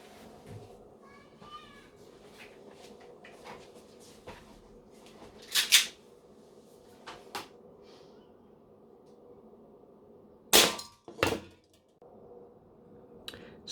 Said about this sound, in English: First up, we're going to test the green gas. I'm going to shoot from 5 meters away.